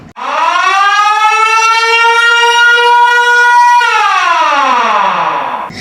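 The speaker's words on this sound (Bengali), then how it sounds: "তেল আবেব ওয়েস্ট ব্যাংক সহ ইসরায়েলের অনেক এলাকায় সাইরেন বাজতে শুরু করে" A single loud air raid siren in Tel Aviv during an Iranian missile attack wails at a sustained pitch for several seconds, then its tone slides downward as it winds down.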